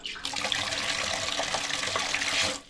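Water runs steadily from a tap in a mosque toilet, a close, continuous splashing gush that lasts nearly three seconds before cutting off.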